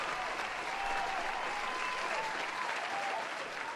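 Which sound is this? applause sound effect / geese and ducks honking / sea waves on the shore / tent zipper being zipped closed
applause sound effect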